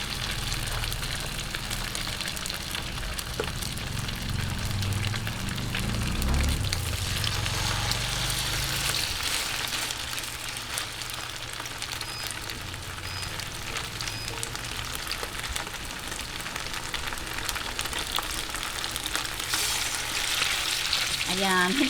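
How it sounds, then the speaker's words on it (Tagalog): Chicken breast fries in a pan with a loud, continuous sizzle and crackle, a low rumbling bubbling in the first several seconds, running unbroken throughout. "umpisahan na po natin yung pagpiprito ng ating chicken breast"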